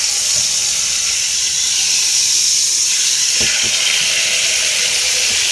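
Food browning in a hot pan, a loud steady sizzling hiss with a few brief pops and splatters partway through, no talk.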